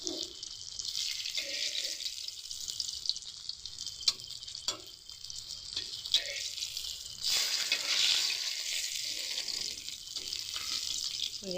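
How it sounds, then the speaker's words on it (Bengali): Katla fish pieces fry in hot oil with a constant bright sizzle and crackle, close by, broken by occasional stirring and clinks. "মাছগুলো কিন্তু দারুণ বন্ধুরা ভাজা হয়ে গেছে।"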